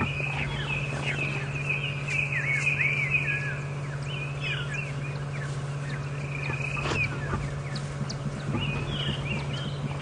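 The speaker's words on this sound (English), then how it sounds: "Brewer's calling, battis is calling, black-crowned shagger is making that whistle that you can hear." At Djuma Game Reserve during a morning safari drive, a chinspot batis and a black-crowned tchagra give clear repeated whistles and calls over the steady low drone of an idling vehicle.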